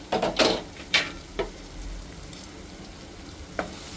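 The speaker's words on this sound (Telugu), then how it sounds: "ఇందులోనే కరివేపాకు ఒక రెండు రమ్మలు వేసేస్తాము కొంచెం సేపు వేగనిస్తాం" Curry leaves hit hot oil in a pan while cooking a tomato and dried nethallu fish curry, giving a few sharp crackling sizzle bursts early on that settle into a faint, steady fry with no talk.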